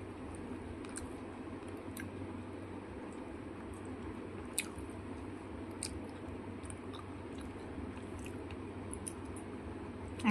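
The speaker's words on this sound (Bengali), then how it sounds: "তোমাদের জন্য খাচ্ছি বন্ধুরা চিংড়ি মাছটা" Someone chewing prawn close to the mouth: quiet wet squishing and soft bites over a low, steady background, with a few faint clicks.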